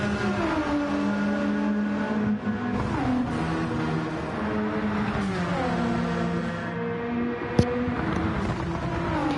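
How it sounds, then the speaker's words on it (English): Race car exhaust in an endurance racing video game, a steady loud engine drone with rising and falling revs and shifting harmonics, a brief sharp click near the end. "Just that exhaust sound is pretty nice"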